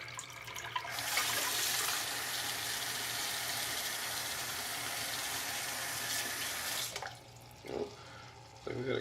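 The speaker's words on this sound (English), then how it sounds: "We're going to go ahead and let this thing just pump for a little while." A TetraFauna ReptoFilter 25905 turtle filter pump pushing water, a steady hissing rush that starts abruptly, runs for several seconds, then cuts off, followed by faint knocks and handling.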